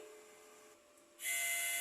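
The print head of a DTF printer is capped: a quiet mechanical whir runs at first, then a louder, steady motor hiss starts partway through and carries on to the end.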